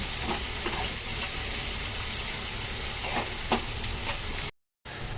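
Onion and tomato frying in a pan with salt, a loud, steady sizzle with occasional faint stirring scrapes, then a brief dropout near the end before the sizzle resumes.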